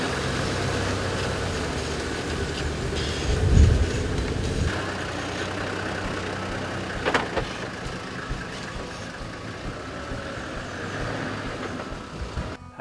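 A 4WD vehicle creeps downhill over rough off-road terrain under engine braking, giving a steady low engine drone with a louder rumble and thump partway through, heard alone without talk.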